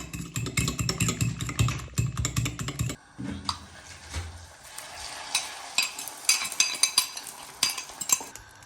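A seasoned mixture for pizza topping, with black pepper and salt, is stirred in a bowl, giving a busy run of scraping and clicking. It is denser for the first three seconds, then becomes sparser taps and scrapes, close by with no talk.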